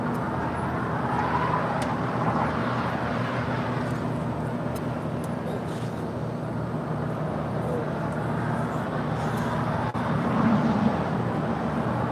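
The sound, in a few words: airliner taking off at LAX runway 25 right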